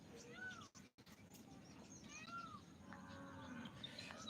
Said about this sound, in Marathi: पक्ष्यांचा मोराचा आवाज येत आहे